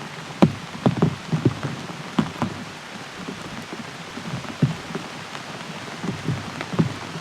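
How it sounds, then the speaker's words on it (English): Heavy rain pours down during a storm at a canoe camp on a wild river, a steady close downpour with scattered drops and taps striking nearby surfaces, with no talking. "There's some rain for you."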